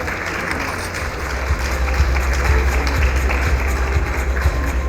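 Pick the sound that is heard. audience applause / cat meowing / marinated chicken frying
audience applause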